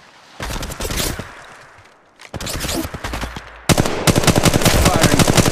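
Rapid automatic gunfire in the mobile battle royale Apex Legends Mobile, loud and close, coming in three bursts with brief gaps between them, the last burst the densest and most sustained.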